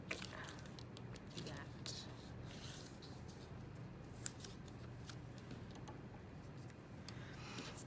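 Scissors snip and trim the strip ends of a woven paper heart craft, a series of faint, quick cuts heard close up, with soft rustling of paper in between.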